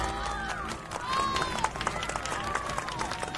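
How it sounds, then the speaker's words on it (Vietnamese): A crowd claps in a dense, steady round of applause at close range, with voices murmuring and talking underneath. "Cho một tràng pháo tay đi."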